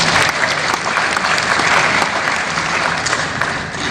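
A seminar audience applauds loudly and continuously after a recited couplet at an Urdu poetry gathering at Hindi Bhavan in Patna, with thick, sustained clapping throughout.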